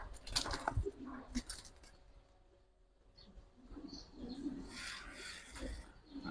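Giribaz high-flyer pigeons kept by a breeder, cooing and shuffling nearby in short bursts, with wing flutters and scattered clicks between quieter stretches.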